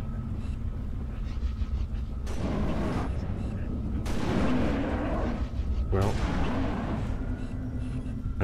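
Gunfire in the video game Halo: Reach comes as three loud, broadband bursts of shooting at roughly two-second intervals over a low game rumble.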